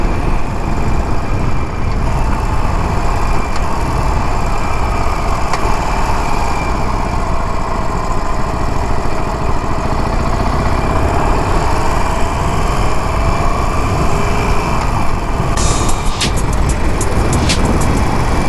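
A Harley-Davidson Sportster 48 motorcycle with mid controls riding onto a freeway, its engine a loud, steady, close drone mixed with rushing wind that holds without a break throughout.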